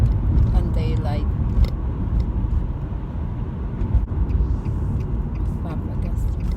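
A car driving on a street in daylight, with a steady road and engine rumble heard from inside, while a person talks over it.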